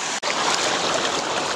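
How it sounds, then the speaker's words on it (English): Salt water rushes steadily into a SeaPack emergency desalinator bladder, a loud, continuous close-up gush with a brief dip near the start and no talking. "So we're going to go ahead and fill this up again with salt water."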